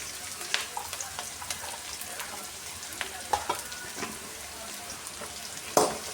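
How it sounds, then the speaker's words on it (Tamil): Shallots and garlic sautéing in a pan for a Cleome gynandra (velai keerai) kuzhambu: a steady close sizzle with scattered sharp spits and pops running throughout. "பத்து சின்ன வெங்காயத்தை கட் பண்ணி சேர்த்து நல்லா வதக்கணும்"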